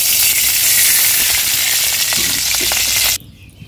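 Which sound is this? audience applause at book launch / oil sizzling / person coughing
oil sizzling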